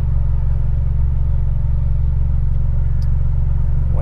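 A Mitsubishi Lancer Evo X engine holds a loud, steady idle-to-rev drone near the microphone, a continuous low rumble with no clear rise in pitch over four seconds.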